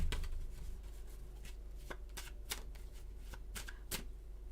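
Tarot cards being shuffled by hand, a quiet series of crisp riffling flicks and taps at an irregular pace over a low background hum, with no talking.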